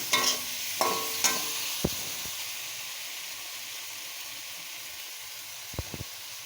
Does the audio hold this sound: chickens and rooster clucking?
no